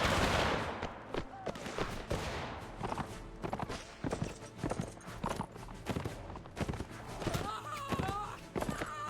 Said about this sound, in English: We're going to go ahead and fire by rank now.